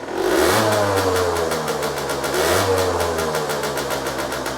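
Aprilia SX50 scooter engine blipped twice up close, each rev climbing sharply then settling back to a rough, buzzy idle, with no speech over it.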